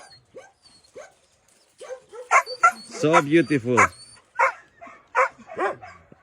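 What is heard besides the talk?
puppies barking and whimpering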